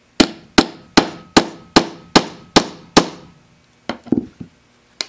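Hammer blows set a metal snap cap onto a sewn fabric bag with a setting tool, eight sharp evenly spaced strikes followed by a few lighter taps, close and loud.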